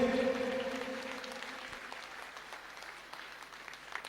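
An audience at a youth theatre event claps loudly at first, and the applause gradually thins and fades over a few seconds.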